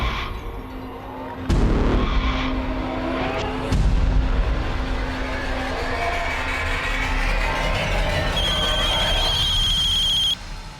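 A telephone rings with a steady electronic trill in an indoor drama scene, loud and close, running through most of the stretch with abrupt cuts and a higher beeping tone near the end.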